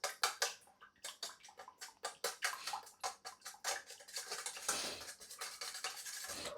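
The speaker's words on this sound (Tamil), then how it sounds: "இது மூணுத்தையும் சேர்த்து நல்லா வந்து பீட் பண்ணிக்கிறோம் இப்போது" Egg, sugar and milk being beaten together for French toast, a utensil clicking rapidly against a bowl in quick, even strokes, close and fairly quiet, with no talking.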